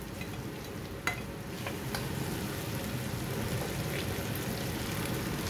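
Fried egg and a few whole green chillies being stirred in a frying pan, a steady low sizzle with faint scraping of the spoon and a couple of light clicks, no voices.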